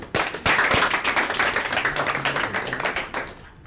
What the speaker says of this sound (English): So I'm going to give her a round of applause.